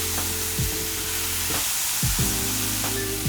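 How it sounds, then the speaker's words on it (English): Tomatoes cook in a skillet with a steady, broadband frying sizzle, broken by a few low, brief knocks of a utensil against the pan; no one speaks. "we're gonna cook those tomatoes until they're nice and soft."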